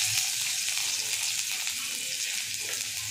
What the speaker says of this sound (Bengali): এই যে উচ্ছে ভাজা চলছে